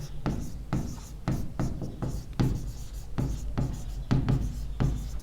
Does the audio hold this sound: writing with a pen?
yes